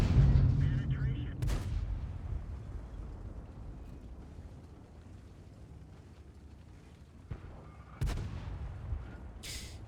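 A tank cannon fires in World of Tanks with a loud boom at the start, followed by a quieter rumbling stretch and a second heavy shot near the end, close and punchy.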